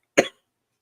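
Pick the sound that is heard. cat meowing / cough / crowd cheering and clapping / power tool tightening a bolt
cough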